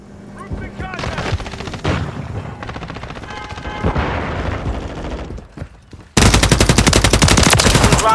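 Call of Duty Modern Warfare 3 gunfire: dense automatic bursts and rapid shots with shouted game voices mixed in, ending in a loud sustained stream of machine-gun fire.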